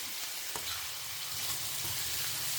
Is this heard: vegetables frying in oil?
yes